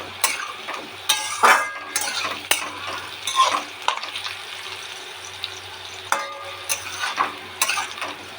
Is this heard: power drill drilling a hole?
no